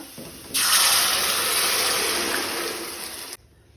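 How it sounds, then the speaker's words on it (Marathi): Water poured from a vessel into a pan of browned onion and ground Goan spice paste for a ladyfish (muddoshi) curry, a steady close splashing gush of about three seconds that starts and stops abruptly. "थोडे उदक घालता। उदक घालता आसतना तुमकां जितले दाट पातळ जाय त्या प्रमाणे घालात।"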